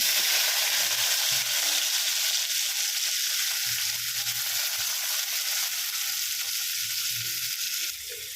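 Tomato frying in hot tempering oil for dal, a loud, continuous crackling sizzle that drops slightly at the end, with faint low voices in the background.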